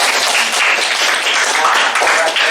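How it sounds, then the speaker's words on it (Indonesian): A classroom of students claps loudly and continuously, a close, dense burst of many hands that holds steady through the short stretch with no talk over it. "Sekali lagi tepuk tangan untuk"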